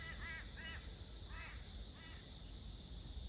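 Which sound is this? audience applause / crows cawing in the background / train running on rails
crows cawing in the background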